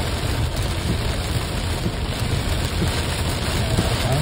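Heavy summer rain pours down in a dense, steady hiss, close and constant throughout, with no voices.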